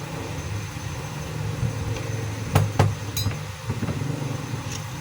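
Metal clinks and sharp knocks come from removing the nut off a DeWalt D28111 4-inch grinder armature, with a few distinct impacts over a low background hum.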